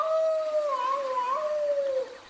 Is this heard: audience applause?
no